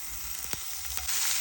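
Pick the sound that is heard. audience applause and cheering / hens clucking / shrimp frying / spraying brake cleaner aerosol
shrimp frying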